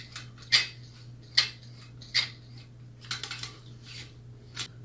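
Metal handle carrying a saw and knife blade screwed into an Ontrip military folding shovel: a handful of sharp, close metallic clicks and scrapes at irregular intervals over a quiet background.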